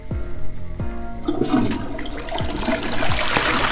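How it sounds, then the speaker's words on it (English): A cartoonish toilet flush from the Toca Boca video game rushes and gurgles as swirling water, preceded by a few bouncy plopping game effects, loud and close with no speech. "let me flush that"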